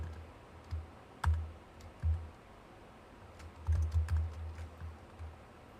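Keystrokes on a computer keyboard while HTML is typed in, heard as irregular close clicks and taps arriving singly and in quick bursts, with a clustered run of strikes in the latter half and no speech.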